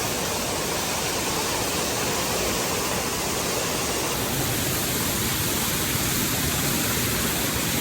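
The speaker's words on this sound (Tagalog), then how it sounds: "Waterfalls guys, pataas. Yan ang waterfalls sa pataas guys." Mother Falls, a waterfall, roars as a dense, unbroken rush of falling water, loud and constant throughout with no voices.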